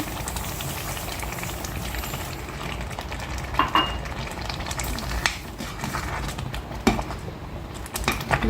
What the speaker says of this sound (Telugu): చక్కెర వేసిన తర్వాత దీన్ని బాగా ఇలా కలిపేసేసుకుంటే ఇంకా దగ్గర అవుతుంది.